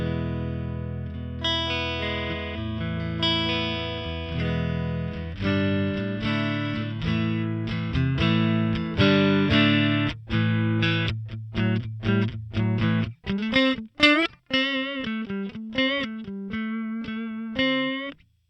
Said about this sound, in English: So I've gone ahead and plugged in my road-worn Strat here. Let's try and hear some of the clean tones.